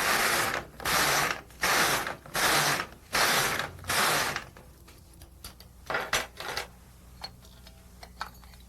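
An LK150 knitting machine carriage swishes back and forth across rows, five loud, even rasping passes in a steady rhythm, then softer clicks and shorter passes as it slows.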